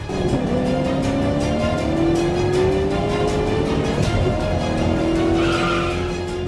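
Motorbike ridden hard in a street race, engine whining and rising in pitch with sustained revving, loud and close throughout, with tire-squeal-like tones sliding across the run and no talk.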